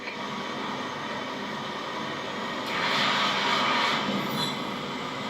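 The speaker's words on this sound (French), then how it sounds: "Attention, les hélicos de renfort rapprochent de votre position." Reinforcement helicopters approach in Just Cause 3, a broad steady engine and rotor roar that swells louder midway through, continuous and without speech.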